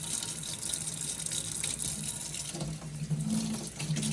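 Running water from a tap pours steadily into a sink as dyed porcupine quills are rinsed, a constant close gushing spray with faint splashes and no speech.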